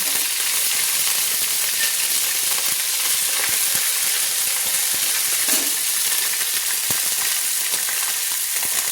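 Ginger paste frying for a mixed vegetable curry with fish head, a steady close sizzle and hiss filling the pan throughout, with faint scrapes of stirring and no talk.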